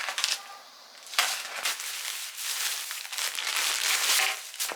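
A delivered package of cotton fabric and ribbing is unboxed by hand, with bursts of plastic crinkling and rustling that come and go, close up and fairly quiet, with brief pauses between handling.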